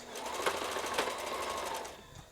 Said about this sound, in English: sew the panels together, basically